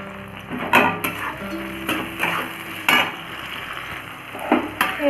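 Chopped capsicum and tomato frying in a pan for a spicy egg curry, with a steady soft sizzle broken by several sharp clanks and scrapes of a spatula stirring against the pan.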